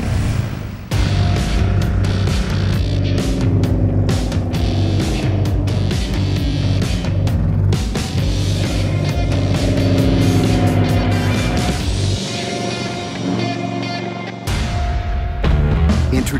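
2015 Indian Scout mid-size motorcycle engine while riding, a loud, sustained droning rumble with shifting revs over about sixteen seconds, briefly dipping in level near the end.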